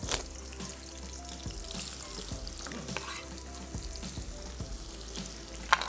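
Onions sizzle and crackle in a hot pan, a close, moderate frying hiss marked by repeated stirring taps and scrapes against the pan, with no talking.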